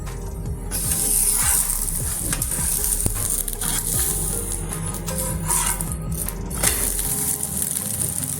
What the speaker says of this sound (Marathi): आणि याला दुसऱ्या साईडने पण दोन मिनटं प्रॉपरली भाजून घेणार आहोत